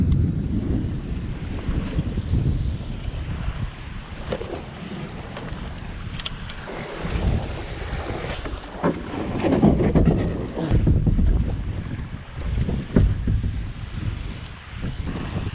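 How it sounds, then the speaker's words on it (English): Strong wind buffets the microphone in gusts on a beach under grey skies, over a low roar of surf, with rumbling low-end noise throughout and no talking. "The sky's grey, the wind's picked up"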